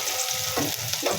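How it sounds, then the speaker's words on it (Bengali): Onions and green chillies frying in a pan, a steady close sizzle that fills the whole moment, with a few brief stirring scrapes and no talking. "আমি পেঁয়াজ কাঁচামরিচ ভাজতেছি"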